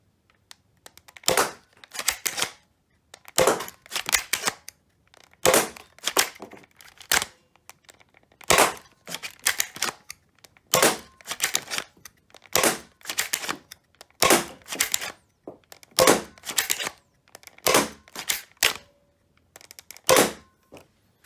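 Super SPAMF foam blaster fires in a steady string of about fourteen sharp, snappy shots, each a loud clack-and-whoosh spaced roughly a second and a half apart, close to the listener with no talking.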